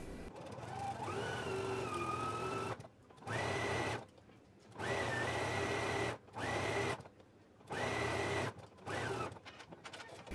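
A sewing machine stitches sleeves into a garment in several bursts of steady whirring, each a few seconds long, separated by short pauses, close and clear.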